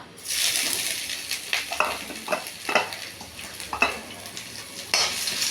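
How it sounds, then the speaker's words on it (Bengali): Grated ginger fries in hot mustard oil with dried red chillies, cumin and bay leaves, a loud close sizzle rising right after it drops in, overlaid by repeated spoon scrapes and stirring knocks. "আদা ঘষাটা দিলাম এবার আদাটা একটু হোক"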